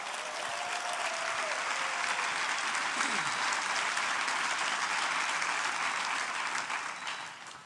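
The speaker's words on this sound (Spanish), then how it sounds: "dele un fuerte aplauso al Señor." A church congregation applauds loudly and steadily for several seconds at a worship service, with no talk over it, fading at the end.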